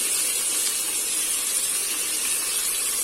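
Onions and tomatoes sautéing in a pan for meal maker biryani give a steady, close sizzle with hiss throughout, continuous and even, no voices.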